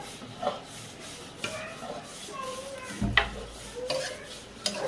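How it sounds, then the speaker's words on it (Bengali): Spice powders and garlic paste fry in a pan under a soft continuous sizzle, with intermittent scraping strokes and a few utensil knocks against the metal, close by and moderate in level. "ভালো করে ভেজে নেব"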